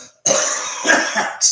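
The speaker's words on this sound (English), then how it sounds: "I've got a bit of a cough here" A man coughs several times in quick succession, a loud, close, rough burst of hacking with no talking around it.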